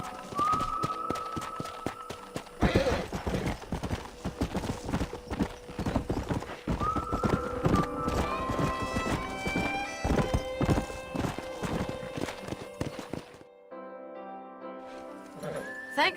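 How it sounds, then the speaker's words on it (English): Horses in the Red Dead Redemption video game clip-clop steadily at close range, hooves beating in a busy rhythm, with a couple of loud whinnies and neighs rising above them before the sound thins out near the end. "We got some fine horses."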